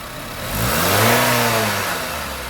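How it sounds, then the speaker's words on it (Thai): A 2014 Honda Accord engine revs up sharply, rising to a loud roar and then easing back down, heard close with no voices. "เหยียบให้เขาฟังเสียงเครื่องยนต์หน่อย"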